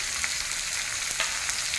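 Bottle gourd fries in oil with spices over a high flame, giving a steady close sizzle with faint crackles, no voices.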